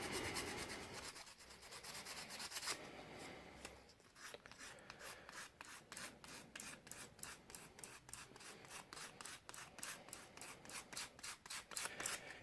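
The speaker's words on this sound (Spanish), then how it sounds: "es ir lijando un poquitín el pegamento, o sea, el termoplástico" Hand sanding of thermoplastic smoothing a 3D printed cosplay prop, a steady close rasping scrub that turns into rapid regular back-and-forth strokes, with no talking.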